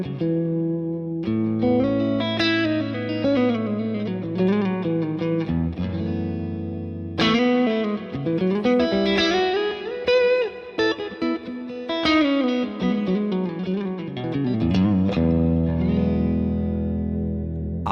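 Electric guitar through a Fractal worship preset with lush reverb, echo and light compression, playing sustained chords and melodic lines with distortion, continuous and loud with no talk.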